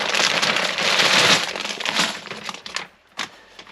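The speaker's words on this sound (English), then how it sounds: "So it comes in a very nice sealable carrier bag." A sealable plastic carrier bag holding a model kit is handled close by, giving dense crinkling and rustling that fades toward the end with a couple of brief final crackles.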